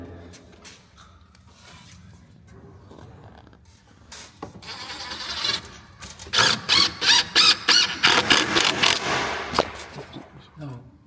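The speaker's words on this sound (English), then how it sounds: "Kevin is screwing the rafter from the outside into the gable rafter, securing it." A power driver sets screws through a cedar shed rafter into the gable rafter, a loud, repeated whirring squeal in short bursts after quieter knocking and handling, with a voice speaking underneath.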